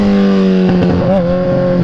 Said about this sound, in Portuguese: Uma moto pra subir no acelerador em terceira